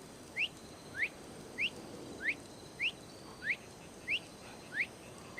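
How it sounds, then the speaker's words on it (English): Repeated rising whistles from an unseen figure in the video game Assassin's Creed Odyssey, eight short upward-sweeping notes at a steady pace of about one every 0.6 seconds, fairly faint over a low ambient background with no talk. "Who's whistling?"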